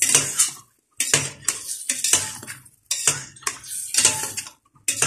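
A spoon stirs a thick pumpkin and meat curry in a metal pot, giving bursts of clinking and scraping broken by short pauses, near and crisp, with no voices.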